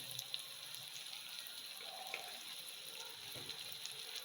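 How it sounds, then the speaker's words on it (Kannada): A teaspoon of cumin seeds fries in hot oil in a pan, a steady, moderate hiss and sizzle with occasional faint pops, continuous and close, with no talking. "ಈಗ ಇದಕ್ಕೆ ಕಾಸ್ಪೂನ್ ಆಗುವಷ್ಟು ಜೀರಿಗೆ ಹಾಕ್ಕೊಳ್ತಾ ಇದ್ದೀನಿ"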